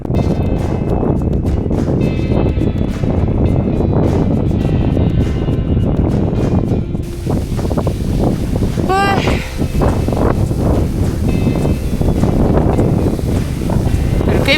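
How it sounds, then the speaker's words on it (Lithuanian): Strong gusting wind buffets the microphone while kayaking on a lake in autumn, a loud continuous roar with water splashing and paddle strokes throughout. "Kaip atsilaikyti prieš tokį vėją."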